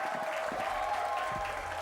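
Applause after a rock performance, steady clapping under a sustained musical tone, with no voices.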